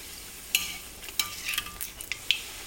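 Puri dough frying in hot oil gives a soft bubbling sizzle, broken by several sharp splashes and scraping stirs in quick succession, up close with no voices.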